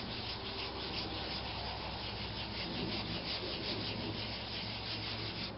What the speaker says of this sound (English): I'm just going to start wiping down the whole thing with it. And just scrub it in.